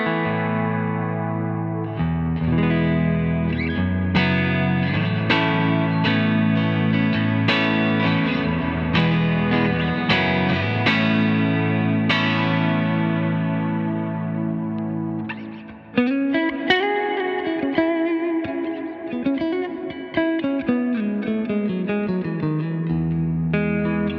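An electric guitar, a Fender Stratocaster, plays through a Fender Hot Rod Deluxe amp with a Skylar reverb and a Keeley Halo in the effects loop, giving sustained chords and melodic lines wrapped in lush echo and reverb throughout.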